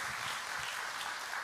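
Steady congregation applause in a church service, moderately distant and even, with no talking over it.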